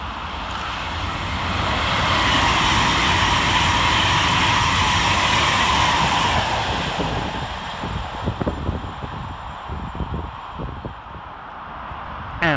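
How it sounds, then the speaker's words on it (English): An Avanti West Coast Class 390 Pendolino passing through Milton Keynes Central station, a loud rising roar that builds, holds for several seconds, then fades into rattling wheel clatter and gusty wind noise. "Next up for Avanti West Coast is 390-045, working 1 Sierra 63 from London Euston to Glasgow Central."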